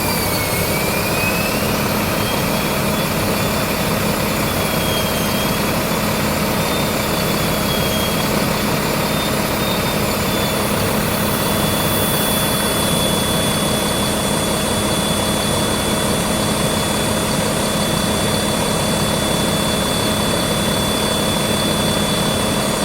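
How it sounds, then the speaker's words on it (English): Turbo of a 2011 Mack LEU garbage truck engine: a steady, loud mechanical rumble with a thin, high whistle running over it throughout, and no talking. "The turbo also on this truck sounds amazing."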